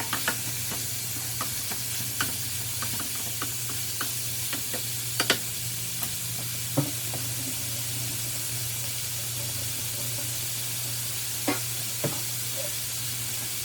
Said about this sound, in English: We're going to make sure that the ground beef is scrambling all the way.